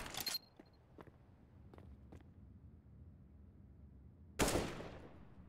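Several sharp gunshots ring out in Counter-Strike: Global Offensive, fired by strong bots. A quick burst comes first, then a few spaced single shots, then one loud blast that trails off, with no talk.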